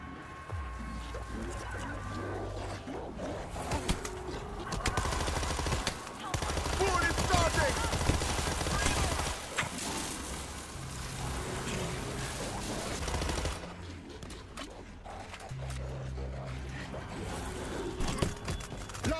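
An automated gun turret in the zombie shooter World War Z fires in long rattling bursts amid chaotic fight noise, with pauses and renewed volleys, while voices talk over the action.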